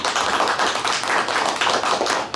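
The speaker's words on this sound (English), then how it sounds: "Round of applause" Audience applause at an IE Mastermind leadership event, dense continuous clapping from a crowd close by, steady and loud throughout with no talk.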